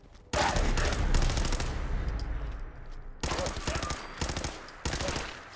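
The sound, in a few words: automatic gunfire in Fallout 4 video game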